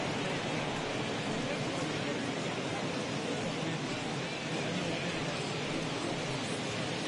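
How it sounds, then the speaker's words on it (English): Heavy rain pours steadily over a baseball field during a Rays at Red Sox game, a dense unbroken hiss with no breaks or individual drops standing out. "It's raining cats and dogs out there."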